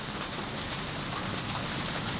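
Steady rain falls around a boat in a late-summer harbour, a dense, even hiss with soft patter throughout and no voices.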